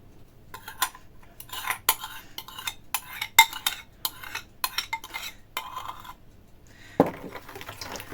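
A spoon clinks and scrapes against a bowl as melted butter is stirred into an Easter bread starter, giving a close series of irregular metallic taps and scrapes with short quiet gaps in between.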